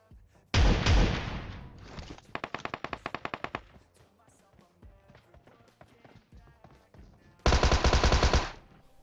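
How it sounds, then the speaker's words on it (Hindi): Gunfire in the mobile battle royale PUBG Mobile: a loud close burst, then a rapid evenly spaced string of Tommy gun shots, quieter scattered shots, and another heavy burst near the end, with footsteps faintly between. "यहां पे मैंने थोड़ी शॉटगन क्या पटका दी"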